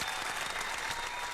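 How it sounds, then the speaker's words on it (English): An audience gives a round of applause: dense, steady clapping fills the whole brief moment, fairly loud and even, with no one speaking over it. "Give her a big round of applause."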